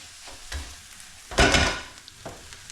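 Eggs fry in a pan with a soft, close sizzle, broken by a few brief scraping bursts. One louder burst stands out near the middle.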